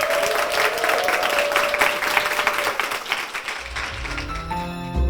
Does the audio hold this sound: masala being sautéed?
no